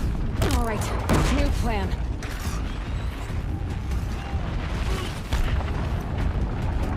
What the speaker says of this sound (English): you can go run and hide while it just continues to explode